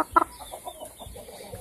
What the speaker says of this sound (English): I got my first chicken